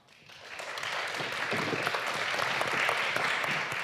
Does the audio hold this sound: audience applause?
yes